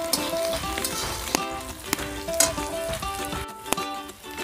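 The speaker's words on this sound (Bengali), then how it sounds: "আমি আর একটু ভালো করে ফ্রাই করে নেব।" Chopped green and red chillies fry in a pan for pasta, giving a steady close sizzle with scattered small pops and crackles throughout.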